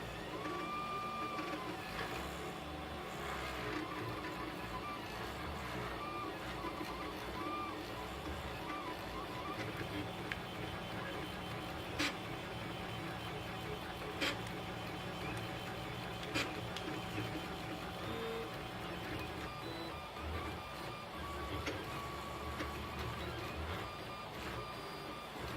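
A 3D printer lays down red ABS filament for a mini skull, its stepper motors whirring and chirping in busy, shifting tones with occasional sharp ticks, steady and close, with no voices.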